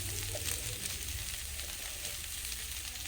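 Onions frying in a pan give a steady close sizzle, a dense even crackling hiss that runs unbroken throughout with no voices.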